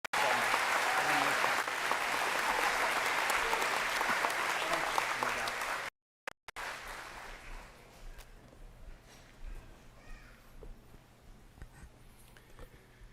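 A graduation-ceremony audience at Marshalltown Community College gives loud, sustained applause for about six seconds, then after a brief break a quieter, thinner patter of clapping and room noise continues.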